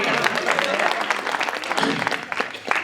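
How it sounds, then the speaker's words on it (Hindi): An audience at a Hindi poetry gathering, the Jakariya kavi sammelan of 2022, claps in a lively burst of steady applause that swells and holds for a few seconds. "ताली बजाओ यार"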